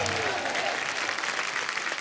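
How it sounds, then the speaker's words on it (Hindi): A studio audience at a comedy talk show claps loudly and continuously, a dense close wash of applause with a faint voice briefly rising beneath it at the start. "एक बार जोरदार तालियां अजय सर के लिए"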